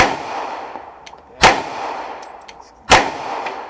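Two sharp pistol shots ring out about a second and a half apart, fired from a handgun with XS Sights DXT2 at steel targets seven yards away, each crack followed by a short metallic clang and fading echo.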